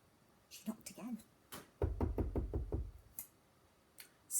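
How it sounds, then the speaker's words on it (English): Knuckles rap on a cottage door in a quick run of about six close, moderately loud knocks, with a few softer taps before and after. "She knocked again."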